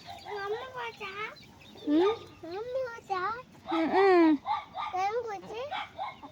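Hens cluck and chicks peep in a busy, continuous chorus, fairly close, with overlapping calls rising and falling.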